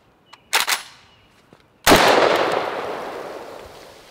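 Rifle firing boiled 7.62x39 ammunition on a mag dump attempt: a couple of sharp, loud shots close together, then after a pause one heavy report with a long echoing decay.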